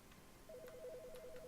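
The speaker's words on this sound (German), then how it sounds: "Oh, Telefon." A telephone rings inside The Stanley Parable, a repeating electronic trill that starts partway through and keeps pulsing steadily at moderate volume over a quiet room tone, with no one speaking.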